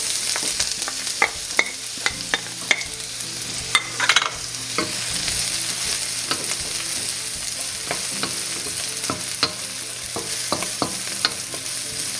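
Onion and garlic sautéing in a pan for beef caldereta, a steady loud sizzle running throughout with repeated sharp utensil scrapes and taps against the pan, close up and no one talking.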